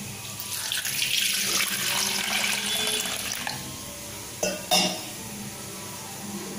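Tap water runs into the pot that will hold pepper rasam, filling it to soak a lemon-sized lump of tamarind. A steady splashing stream plays for a few seconds before it stops, followed by a couple of pot clanks, close by with no talk.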